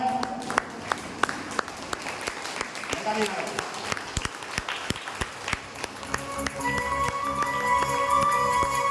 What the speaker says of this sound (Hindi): खड़े होके सर को तालियों के साथ पहले खड़ा हो जाए और ताली इतनी जबरदस्त हो जाए।